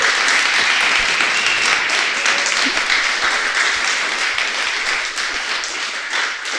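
Audience at a podcast festival talk breaks into sustained, dense applause, many hands clapping at a steady, fairly loud level that eases slightly toward the end.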